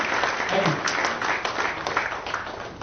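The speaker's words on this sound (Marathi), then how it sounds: "टाळ्या थोड्या दणक्यात आणि जोरदार वाजल्या" Applause from a conference audience at a Marathi business brand event, a warm wash of clapping that carries on for a few seconds with a voice briefly over it.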